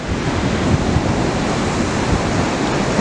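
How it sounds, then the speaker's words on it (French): Ocean surf breaking on the beach at Anglet, a loud, continuous wash of waves with steady wind rush across the whole stretch, no voices. "il y aura des vagues même dès maintenant"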